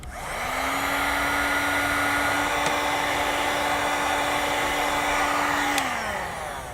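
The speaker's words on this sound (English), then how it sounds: "I'm going to come back with a heat gun and I'm going to shrink down my heat shrink" A heat gun shrinks heat shrink tubing over battery disconnect wiring on a 2009 Jeep, a loud steady electric blower roar with a faint motor whine, starting up, holding and winding down.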